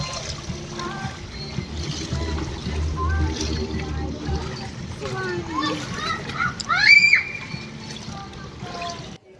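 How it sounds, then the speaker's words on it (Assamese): A child splashes about in a swimming pool in Pattaya, Thailand, with intermittent sloshing, while children's voices chatter nearby; one sharper splash stands out toward the end. "এইবাৰ পিংকুই চুইমিং কৰিছে"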